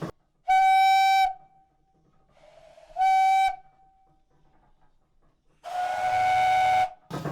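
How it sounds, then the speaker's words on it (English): Three loud steam whistle blasts from a wood-fired steam donkey engine, two short and one longer, each a bright sustained tone separated by quiet gaps. "It carries a variety of whistles on it"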